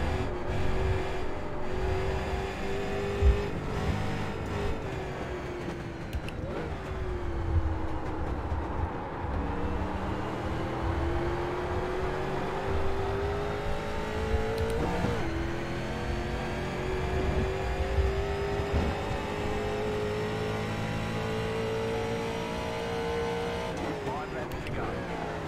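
A street stock race car in iRacing on the Texas Motor Speedway road course drones steadily, its engine pitch climbing and falling through corners and braking zones, with someone talking over the continuous engine noise.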